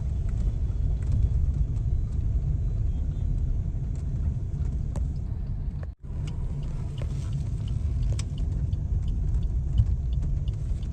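A car turning onto the road toward a Punjab village gives a steady, loud engine and road rumble, with a brief dropout partway through.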